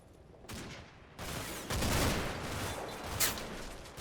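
Several overlapping bursts of machine gun fire in Combat Mission: Battle for Normandy roll on as a dense, continuous crackle that swells in the middle and ends with a sharper shot, with no talking.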